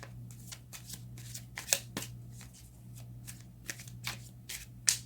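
Tarot cards shuffled by hand in a series of quick riffling bursts, close and fairly quiet over a steady low hum, with two sharper snaps standing out.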